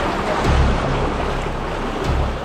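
Loud rushing water of a strong, high river current in Aceh Jaya churns continuously up close, a broad turbulent roar with gusty swells.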